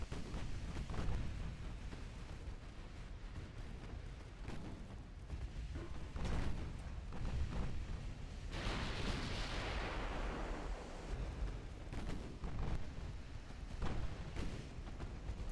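Naval guns fire at battleships in the video game Ultimate Admiral Dreadnoughts. Deep booming salvos roll out continuously and overlap into a dense, rumbling barrage that carries through the whole stretch without any talk.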